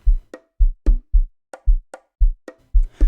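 Amapiano percussion groove programmed in FL Studio Mobile: punchy low kicks alternate with snappy, crisp hits in a steady syncopated pattern, loud and clear with no voices over it.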